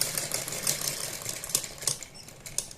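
A sewing machine stitches around a corner of a garment neckline, a quick, light mechanical patter running in short bursts that start and stop.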